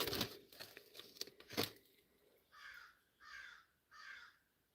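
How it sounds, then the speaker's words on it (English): Close crinkling and rustling at first, then three evenly spaced harsh caws from a crow outdoors, moderately distant, heard through an open garage door. "Did you all hear that bird?"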